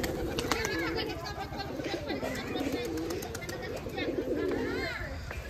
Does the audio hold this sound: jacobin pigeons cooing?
yes